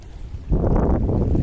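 Wind buffets the microphone in a low, steady roar that swells up suddenly partway through and stays strong, with water-like rushing beneath it.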